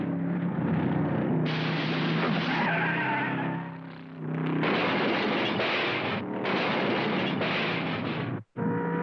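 Cartoon race cars skid and screech through a busy race, with loud continuous engine roar and tire squeal broken by a few short pauses, ending in a sudden dropout before a final burst.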